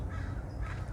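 Crows cawing outdoors in the early morning, harsh calls repeating over a steady low rumble of background noise.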